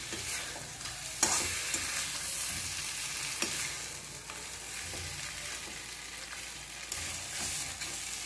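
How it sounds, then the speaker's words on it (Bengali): Soaked golda prawns being stirred with masala in a hot pan, a low sizzle broken by repeated spatula scrapes and knocks against the pan, close and moderately quiet, with no talking. "মশলার সঙ্গে চিংড়ি মাছগুলো আমি ভালো করে নেড়ে নিচ্ছি"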